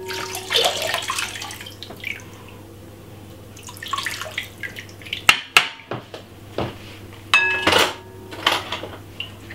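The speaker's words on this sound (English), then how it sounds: "we're going to pour some water on it like this" Water splashes and trickles in short bursts over fresh ginger, mixed with clinks and knocks of dishes and utensils close by.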